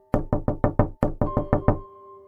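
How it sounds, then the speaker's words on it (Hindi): Knuckles rap on a door in a horror story setting: two quick runs of five sharp, loud knocks with a brief gap between them, then silence. "और आज फिर से रात के 3 बजे दरवाज़ा नॉक होता है।"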